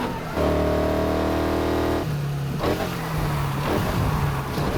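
A racing car engine in Need for Speed Heat revs hard and steady, then drops to a lower droning pitch that rises again in surges, loud and continuous with no talk.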